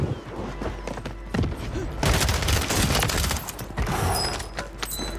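Dense gunfire fills a gunfight in the video game Warzone, with rapid overlapping shots and bursts that keep going throughout, loud and sustained, with a voice faintly under it.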